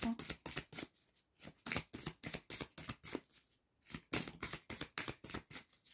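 Quiet, rhythmic riffling of a tarot deck being shuffled and drawn: a steady run of short papery card bursts with a brief pause midway.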